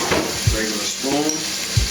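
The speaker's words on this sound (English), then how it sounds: "Mix this up." A regular spoon stirs seasoned food sizzling in a frying pan, a soft continuous frying hiss with a few scraping strokes and light clinks against the pan, close and fairly quiet.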